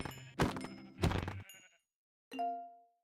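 Sheep bleat in Minecraft, two loud wavering bleats in quick succession, followed after a brief silence by a cleaner, shorter tonal bleat.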